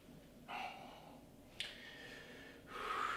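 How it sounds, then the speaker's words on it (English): Deep breaths during a hips, hamstring and back stretching exercise: soft inhales and exhales come in slow waves, near and quiet, with nothing spoken. "Some big deep breaths, and every time you exhale, you're letting go of any tension,"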